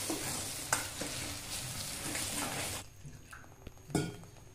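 A ground masala of peanuts, green chilli, garlic and cumin sizzles loudly as it is stirred into fenugreek in a pan. The frying fades to a quieter sizzle, with a couple of sharp utensil clinks near the end.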